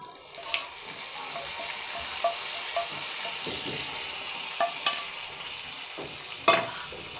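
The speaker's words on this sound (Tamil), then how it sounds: "சேர்த்துட்டு திரும்ப கொஞ்சம் நேரம் அடுப்பில் வச்சு நல்லா கலந்து விடுங்க." Stirring mango and neem flower pachadi in a pan on the stove after fried tempering is added, giving a steady low sizzle with soft scraping and a few sharp spoon clicks against the pan.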